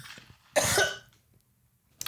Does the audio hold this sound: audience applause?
no